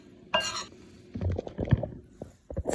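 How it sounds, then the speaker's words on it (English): Cooked penne pasta is poured into a bowl of cheese and mixed, giving a sharp clink followed by soft, irregular scraping and stirring sounds, close by and moderately loud. "Here I have my pasta, and I pour it into the bowl with the cheese,"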